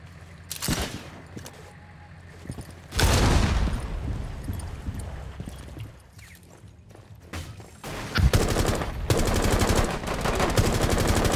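Rainbow Six Siege gunfire: bursts of rapid automatic shots, loud and close, with quieter stretches between volleys and a long sustained burst near the end.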